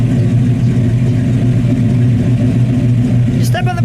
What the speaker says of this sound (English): Let me just listen to it idle for a second. Nothing like the Pontiac V8.